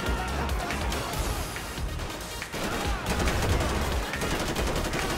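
Rapid, dense gunfire rattles through a GTA 5 LSPDFR military and SWAT police shootout, with bursts of automatic shots and crashes running almost nonstop at close range.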